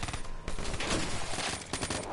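Rapid gunfire from a Black Ops 3 online match, dense bursts of shots packed close together and loud throughout, with no pause in the shooting.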